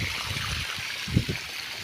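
Irrigation water runs into a pigeon pea field outdoors, a steady low trickle and gurgle with soft bubbling swells and a faint broad wash behind it.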